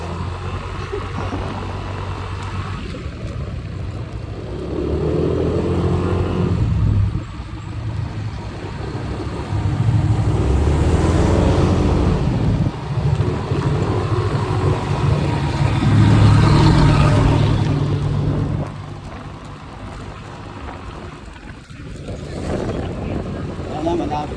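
Steady engine drone of a Yamaha Lexi 155 scooter riding a mountain road in Benguet, rising and falling in loudness, with wind and road noise throughout.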